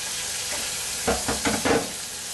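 Food being stirred in a hot frying pan, a steady sizzle with a few scraping strokes of the spatula bunched in the second half, up close with no talking.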